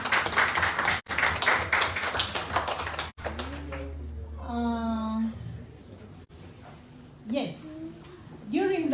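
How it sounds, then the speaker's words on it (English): An audience at a town hall meeting of Ugandans in Copenhagen claps in a dense burst of applause lasting a few seconds, then a voice speaks over quieter room sound with scattered claps. "Let's clap for Dr."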